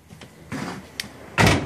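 A Subaru car door swinging shut during a remote start demonstration, ending in one loud, close, solid thump after a few lighter handling knocks and a short click.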